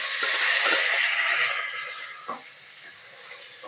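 Boiled broad beans drop into hot oil with tempering seeds, giving a bright, loud hiss of frying that gradually settles into a softer sizzle over a few seconds.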